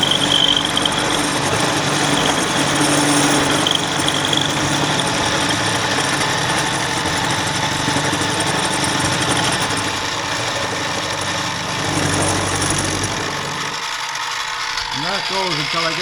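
An OMARV TSR 160 flail mower engine runs at a steady idle with clattering mechanical ratcheting for most of the stretch, then drops away near the end, leaving quieter low rumbles.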